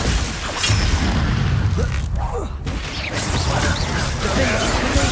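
Hogwarts Legacy combat as Confringo and Glacius spells are cast, with bursts, crashes and crackling magical impacts over a rumbling low end, busy and continuous with brief lulls.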